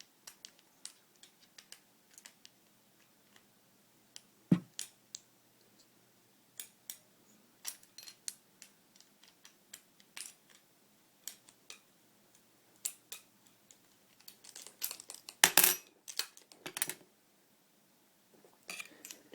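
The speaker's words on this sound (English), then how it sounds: "my Allen wrench is not long enough, so it bumps into the top of the ram halfway around the screw" An Allen wrench works a screw on a WGP Autococker paintball marker pump, giving sparse, faint metallic ticks and clicks at irregular intervals with quiet gaps between them and a louder rattling cluster near the end.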